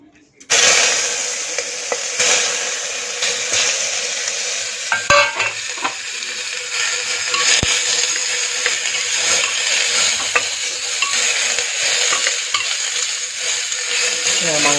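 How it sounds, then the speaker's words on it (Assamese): Chicken meat frying in hot oil in a pan, a loud continuous sizzle that starts abruptly and stays steady, with occasional stirring clinks of a utensil against the pan. "তেল গৰম হৈ গৈছে। আমি এতিয়া অলপমান মাংসও ঢালি দিম।"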